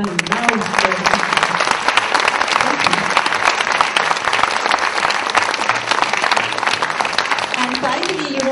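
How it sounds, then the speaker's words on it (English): Loud, dense applause from an audience fills the hall without a break, cheering the performers of a student production of the comedy See How They Run by Philip King. "Can we really give them all a real loud applause?"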